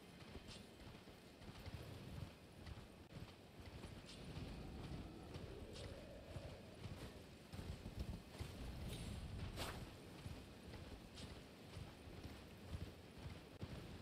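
Hoofbeats of a horse galloping in Elden Ring, a steady clip-clop running under dense game music and ambience for the whole stretch, moderately loud and continuous.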